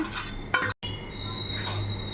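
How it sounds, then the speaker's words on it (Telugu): A few quick clinks of a spoon against a plate as a mixture is stirred into water, followed by a low, steady background hum. "అండ్ ఇదంతా ఒకసారి మిక్స్ చేసేసుకుందాము వాటర్లో"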